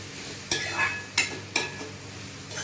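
Onions frying in oil are stirred with a spoon, giving three or four distinct scraping strokes over a steady, close sizzle.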